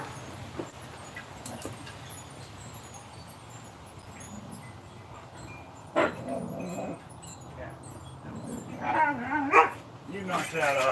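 A dog barks and yips indoors nearby, a sharp bark followed by a cluster of excited barks toward the end, over a faint background hum.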